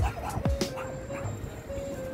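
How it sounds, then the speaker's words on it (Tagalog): Poodles bark outdoors on a street, several sharp yips and barks in the first second, then quieter background sound. "di ganda ng mga aso"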